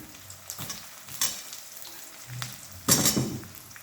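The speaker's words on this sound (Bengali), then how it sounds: "আলুটা এই পেঁয়াজের সাথে ভেজে নিচ্ছি" Potatoes frying with onions in a pan for chicken curry, a soft sizzle broken by a few louder bursts of stirring and scraping, the strongest near the end; close and moderately quiet.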